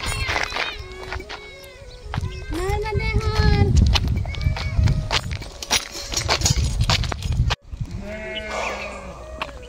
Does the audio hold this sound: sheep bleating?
yes